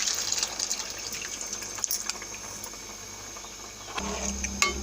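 Soaked tamarind juice poured into simmering moong dal with drumstick leaves, a soft running splash and trickle of liquid, fairly close, ending in a fuller gush.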